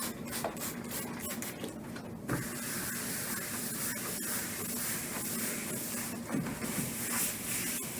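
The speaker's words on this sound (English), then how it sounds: "we spray it with our water bottle to remove any bleach residue" Bursts of fine water spray from a pump bottle rinsing bleach residue off surfaces, several quick squirts close by, followed by a steady misty hiss.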